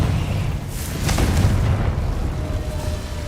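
A Confringo fire spell bursts in Hogwarts Legacy, a deep rumbling boom swelling and fading over a few seconds against steady low game ambience, with no talk.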